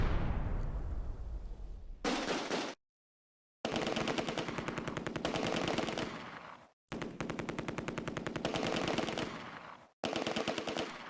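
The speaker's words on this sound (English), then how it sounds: "The Germans keep firing, but there is little movement on either side" Sustained machine-gun and rifle fire in the Close Combat: A Bridge Too Far war game, loud rapid bursts repeating in long stretches broken by brief silent gaps, with no voices.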